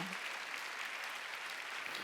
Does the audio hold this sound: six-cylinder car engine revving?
no